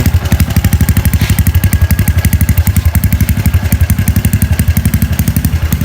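A loud, close Honda Wave 125 motorcycle engine with a stock-bore engine and a Chan Speed exhaust made for the Wave 110, idling with a deep, rapid, throaty exhaust thump, pulsing steadily and evenly throughout.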